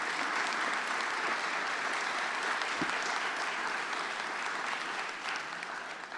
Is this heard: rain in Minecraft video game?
no